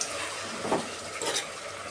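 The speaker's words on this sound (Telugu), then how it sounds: "మీడియం ఫ్లేమ్లోనే పెట్టి బాగా వేగించుకోవాలి" Vegetable curry masala of coconut paste, tomato and coriander fries over a medium flame, with soft sizzling and two brief scraping stirs close by, no voices present.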